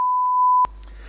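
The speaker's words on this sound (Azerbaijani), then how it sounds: "Vaxt getdi deyəndən sonra siz studiyada bir zil səsi eşidirsiniz." A quiz show studio signal sounds as a single clean electronic tone, held steady for just over half a second before cutting off sharply into quiet room tone.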